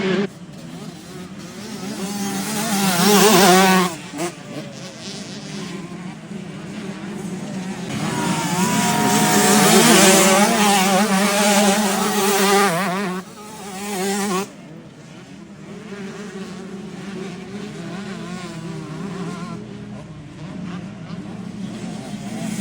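Motocross motorcycles race at a track in Port-sur-Saône, their engines droning and whining as they pass at varying distance, swelling loud and then easing off, with someone talking over the noise.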